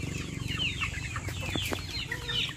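Rhode Island Red chickens cluck and chatter in a busy, continuous flock, with overlapping short calls over a low background rumble.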